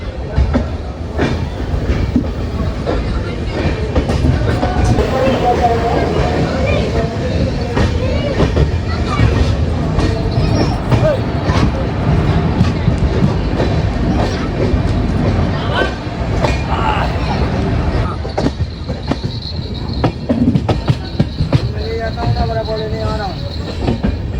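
The Mangala Lakshadweep Express rumbles steadily along the rails after departing Jhansi station, with rhythmic clacking and occasional squeals, while voices talk over the noise.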